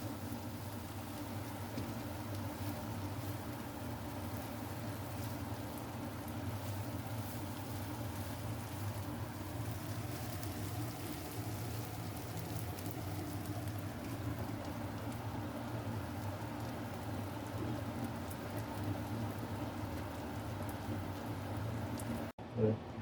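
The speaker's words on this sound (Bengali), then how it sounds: "আমি এগুলো মচমচে করে ভেজে নিব।" Dried shrimp frying in oil until crisp gives a steady, faint, continuous bubbling hiss that runs evenly throughout, ending with a brief knock.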